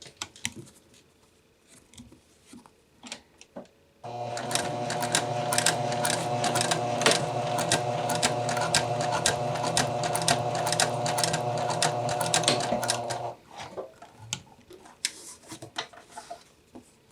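A sewing machine stitches a bound buttonhole in one loud, rapid, even burst of about nine seconds, framed by quiet handling clicks and rustles before and after.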